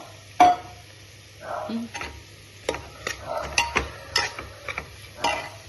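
Beef masala curry with potatoes is stirred and fried in a pan, the spoon scraping and clinking against the metal in irregular strokes over a low, steady sizzle close by.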